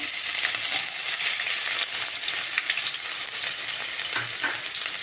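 Onions sizzle steadily in hot oil in a pan for a mushroom masala, a dense, even hiss with faint scraping and crackle throughout and no voices.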